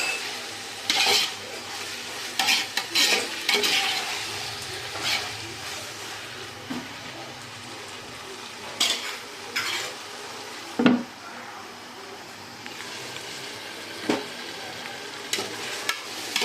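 Onion and tomato masala sautéing in a pan for soya biryani, with a spoon scraping and knocking against the metal in irregular bursts over a continuous gentle sizzle, close and without talk.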